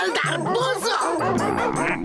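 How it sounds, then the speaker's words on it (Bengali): A cartoon police dog lets out a quick run of loud, close barks and yips, several short bursts in a row, with a little voice mixed in. "meet my police dog havildar"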